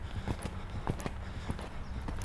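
Steady clip-clop of a horse's hooves during a riding lesson, rhythmic footfalls at a moderate gait, fairly close over soft background noise.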